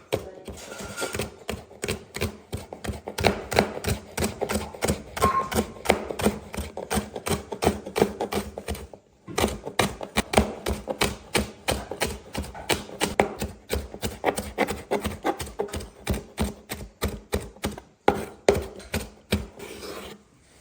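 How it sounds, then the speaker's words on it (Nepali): A knife chops green onions on a board in a home kitchen, a long run of quick, even taps with one short pause partway, close and clear with no talk over it. "अहिले यो हरियो प्याज चाहिँ कटिङ गर्दै हुनुहुन्छ।"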